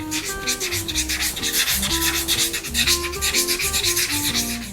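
An iron plate rubs steadily over a damascus steel knife blade in fast, continuous back-and-forth strokes, giving a close, loud scraping sound that runs throughout with no talk.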